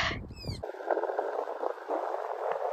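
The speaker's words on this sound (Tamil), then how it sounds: "the only sound you can hear is the sound of birds and the sound of tidals" Birds call briefly at a temple near Pattaya, a few quick chirps early on, followed by a steady wash of background noise.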